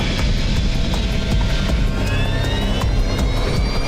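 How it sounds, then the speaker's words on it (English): Airplane jet engines roar loudly and steadily during takeoff, a close, continuous rumble with a high whine running over it. "Just another routine takeoff."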